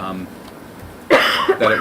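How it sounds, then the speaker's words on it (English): A single sharp cough bursts out after a quiet stretch at a school board meeting, followed by a second shorter cough or throat sound, close to the microphone. "catching her mid-cough"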